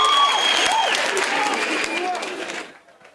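An audience at a student briefing claps in a sustained burst of applause that fades out near the end, with talking layered over it.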